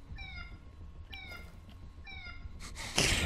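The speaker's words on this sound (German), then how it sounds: "Die Alarmanlage hört sich an, als würde eine Katze die ganze Zeit mauen." Alarm in the video game The Division 2 that sounds like a meowing cat, repeating in three short plaintive cries spaced about a second apart, followed by a burst of louder noise at the end.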